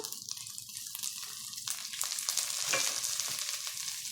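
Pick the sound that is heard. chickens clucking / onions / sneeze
onions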